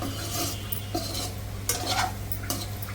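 Paneer fried rice stirred in an oily pan: scraping spoon strokes and clinks over a continuous sizzle, close and fairly loud, with the strokes coming at irregular intervals and no voices.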